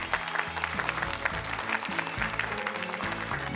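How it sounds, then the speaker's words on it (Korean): An audience at a televised regional public forum applauds steadily as a student representative comes forward, with continuous clapping under faint low background music. "여러분 박수 한번 부탁드리겠습니다."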